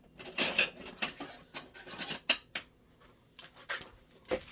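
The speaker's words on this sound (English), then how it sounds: "Just take some tongs and kind of just mix them up." Metal tongs tossing seasoned fries for turkey smash burgers, a string of scraping, rattling rubs in uneven bursts, close and moderately quiet, no talking.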